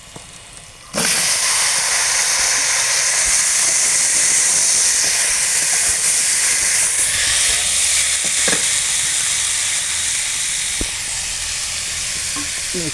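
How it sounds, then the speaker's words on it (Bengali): Pieces of ash gourd (chal kumra) hit hot oil with fried garlic, onion and panch phoron, setting off a loud, steady sizzle and hiss that holds for the rest of the pan's run, with a few soft clinks of stirring. "এখন আমরা পানি কুমড়া বা চাল কুমড়াটা এর মধ্যে দিয়ে দিব আর কি। সেটাও একটু কষা যাক,"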